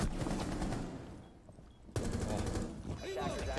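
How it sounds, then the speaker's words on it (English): MP5 submachine gun fire in a Rainbow Six Siege esports match, rapid bursts crackling loudly, a brief lull, then more sustained automatic fire with a commentator talking over it. "The booms go off the MP5."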